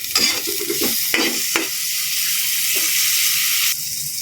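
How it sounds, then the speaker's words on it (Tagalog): Aromatics sauté in a hot pan for shrimp with spinach, with a loud steady sizzle and a few scraping stirs early on, alone without talk. "Gigisa lang natin."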